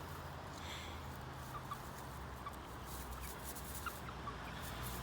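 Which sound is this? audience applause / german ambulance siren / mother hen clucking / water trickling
mother hen clucking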